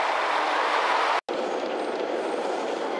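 The JR Kyushu Futatsuboshi 4047 sightseeing train runs along the Omura Line with a loud, continuous rushing roar from on board, broken by one abrupt split-second dropout.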